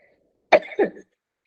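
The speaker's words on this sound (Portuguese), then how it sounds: "apareci com uma tosse agora" A single short cough, close and fairly quiet, in two quick bursts against a silent background.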